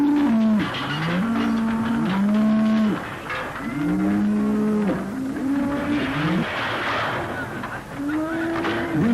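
Cattle mooing repeatedly during an outback muster, a herd of several cows lowing in overlapping calls, fairly close and loud.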